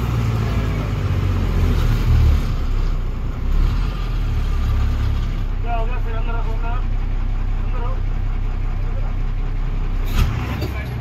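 Road vehicles, including buses and trucks, drive along a narrow mountain road on the route from Haridwar to Yamunotri. A steady loud engine rumble fills the scene and a brief higher burst comes near the end.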